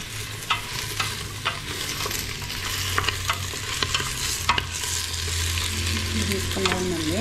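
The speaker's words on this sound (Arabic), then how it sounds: "نبقاو نحركوا البنات ما تسقناش، نحرك الماء." Ingredients for Tlemcen harira are stirred and fried in a pot, giving a continuous sizzle with repeated scraping strokes of the spoon at an irregular rhythm, close and clear without talk.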